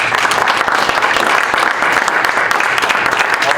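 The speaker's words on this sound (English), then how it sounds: "I think that deserves a round of applause for the work that the professional community" An audience applauds steadily after a budget presentation, dense continuous clapping held at an even level throughout, with no voices over it.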